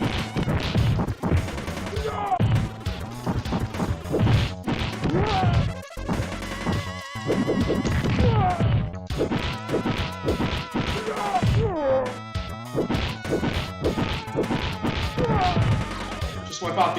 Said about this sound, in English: Just break this barrel because we are going to be getting some enemies